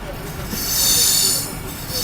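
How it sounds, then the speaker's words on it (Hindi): Wheels of the Chaman passenger train squeal on the rails at a border railway station, a sharp, loud high-pitched screech that swells and fades over a low rumble of the moving carriages. "मैं आज आपको चमन पैसेंजर ट्रेन की पूरी आपको मैं दिखा रहा हूँ"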